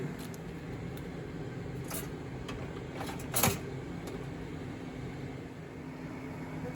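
A microwave oven hums steadily while cooking bacon after its button is pressed, a constant low drone with a brief louder clatter partway through.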